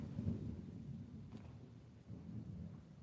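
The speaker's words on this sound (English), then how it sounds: "I can hear thunder." Low, distant rumble of thunder rolling through an overcast day, a soft continuous swell with a faint crack near the middle, no talk over it.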